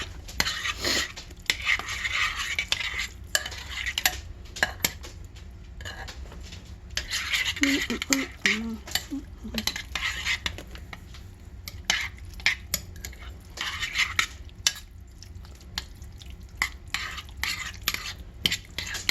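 A spoon stirs a broccoli casserole mixture with egg in a casserole dish, making repeated scraping and clinking strokes over a steady soft hiss.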